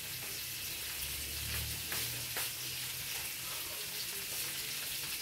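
Sardines fry over a wood fire, giving a steady, dense sizzle that runs loud and unbroken for the whole stretch, with a faint scrape of stirring now and then.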